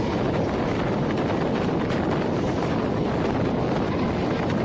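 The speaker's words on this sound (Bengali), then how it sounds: "আমাদের ট্রেন এখন কামারকুণ্ডু স্টেশন ক্রসিং করছে।" A local train on the Howrah to Barddhaman chord line rolls through Kamarkundu station with a loud, continuous rumble and rushing wind, heard from on board, steady throughout with no talking.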